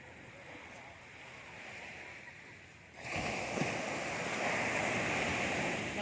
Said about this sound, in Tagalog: Sa lakas ng alon.